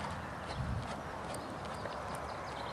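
Steady hoofbeats of a horse clip-clopping at close range over a constant broadband rumble, with no voices.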